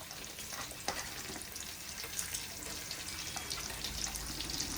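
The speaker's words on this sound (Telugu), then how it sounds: "ఆనియన్ కొద్దిగా బ్రౌన్ కలర్ వచ్చేంత వరకు వేయించుకోవాలి" Onions fry in hot oil for paneer pulao with a steady, close hiss and crackle that runs unbroken throughout, and faint stirring can be heard within it.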